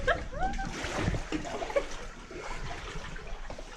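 An object splashes into water inside an abandoned WWII air raid shelter in Scotland, a sharp close splash followed by sloshing and trickling, with excited voices talking over it.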